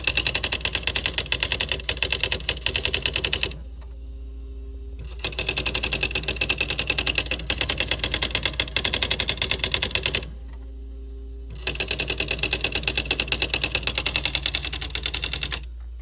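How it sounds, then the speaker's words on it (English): A Smith Corona SL 575 electronic typewriter running its demo mode, firing off fast, even streams of close, loud key strikes in three long bursts separated by short pauses with a low motor hum. "You just hit code and demo, and you can see how clearly it types."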